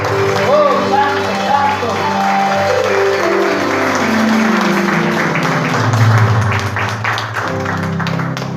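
Applause during a Spanish-language evangelical church service: a congregation claps steadily under music and singing, with voices heard throughout.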